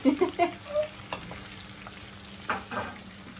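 Meatballs frying with spices in a hot pan, a close, crackling sizzle with small popping bursts, strongest at the start and again near the end, under faint background talk.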